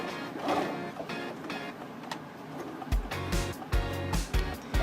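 A sewing machine stitches a rectangle along the top of a tote bag made from a recycled T-shirt, its motor whirring in short, uneven bursts that grow louder and more rhythmic toward the end.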